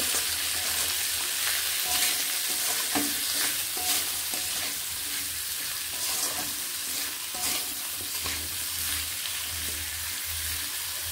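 Potato pieces with salt and turmeric powder fry in a pan with a steady, close sizzle, broken by occasional scraping and clinking from stirring.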